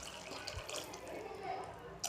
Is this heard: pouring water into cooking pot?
yes